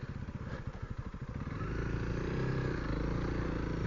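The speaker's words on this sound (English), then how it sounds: "Got to bury the back of the bike there. Digging a rut." Honda CRF300L dual-sport motorcycle ploughing through deep sand in the Arizona desert, the engine pulsing unevenly at first, then settling into a loud, sustained drone as the rear wheel digs in.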